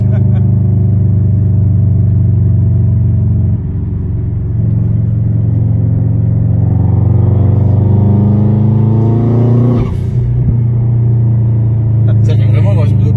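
A Subaru Impreza WRX STI engine builds a loud, deep, close drone that rises in pitch as it revs and then drops back, with people talking over it.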